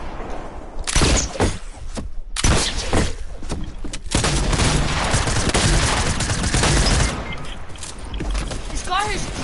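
Gunfire and sniper shots in Fortnite, with sharp cracks and sustained bursts that roll on loudly throughout, joined by a few scattered impact noises and light game effects.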